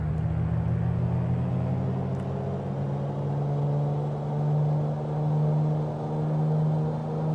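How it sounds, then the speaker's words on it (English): A light aircraft engine in Microsoft Flight Simulator holds a steady full-power drone on a short runway with the brakes held, a loud, even low hum that swells slightly toward the end, with no talking. "let's go ahead and throw the power in"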